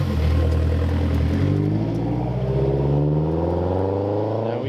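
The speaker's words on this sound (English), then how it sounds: "This car sounds amazing, and especially running with the pops" A 400HP big-turbo Mazda Speed3 engine revving loudly and close, its pitch climbing steadily with crackling exhaust pops throughout, no talk over it.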